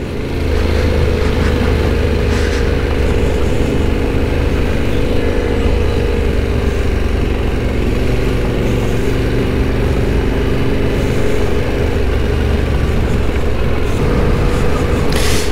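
A Yamaha Ténéré 700 motorcycle engine running steadily off-road in second gear, a loud, constant drone held close throughout with no clear pauses.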